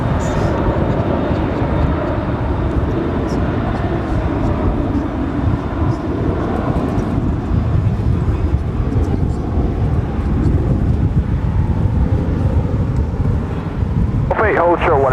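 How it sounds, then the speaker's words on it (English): Qantas Boeing 787 Dreamliner airliner on approach to land at Dallas-Fort Worth, a continuous broad engine rumble and roar under intermittent talk, holding steady for the whole stretch. "here the Qantas Dreamliner on her way in"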